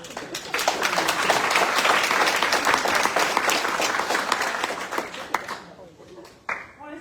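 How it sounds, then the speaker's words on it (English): Seminar audience breaks into a dense round of applause that holds steady for several seconds, then thins out to a few scattered claps near the end. "So again, one more round of applause, please."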